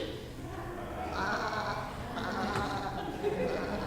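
People in a church imitate sheep bleating during a Christmas nativity play, a soft chorus of overlapping baa sounds, distant and fairly faint, with the murmur of a congregation around it.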